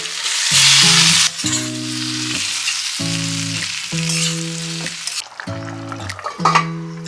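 Fried jackfruit and shrimp tipped into a sizzling gravy, producing a loud steady frying hiss that carries through the whole stretch while a voice speaks in short phrases over it.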